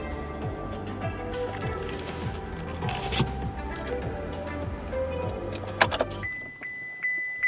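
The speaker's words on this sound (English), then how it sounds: "That noise is the new rear seat reminder." A rear seat reminder chime in a 2017 Chevrolet Silverado 2500HD/3500HD pickup cabin, a steady tone sounding near the end after an idling engine drone cuts off, with two brief repeats close and fairly loud.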